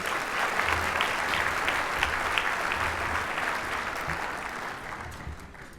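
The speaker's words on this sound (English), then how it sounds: "Let's give them a warm round of applause." An audience at a ski area summit breaks into steady, dense applause that holds strong and then tapers off toward the end.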